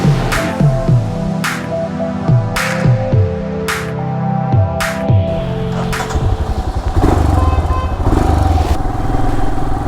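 A motorcycle on an evening ride, its engine droning loud and close with repeated revving surges and gear changes, plus wind buffeting across the whole stretch.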